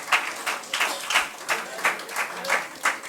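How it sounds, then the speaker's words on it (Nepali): A crowd claps together during a Baptist youth fellowship gathering in Nepal, the applause rising and falling in several short bursts at moderate loudness. "उहाँलाई एकचोटि उठेर हामी सबैजनाले ताली बजाउनेछौँ"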